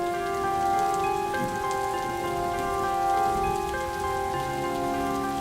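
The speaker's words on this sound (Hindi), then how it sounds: "आपको बारिश पसंद नहीं?" Steady rain falls through the clip, a continuous even patter with held tonal music running underneath it and no talking.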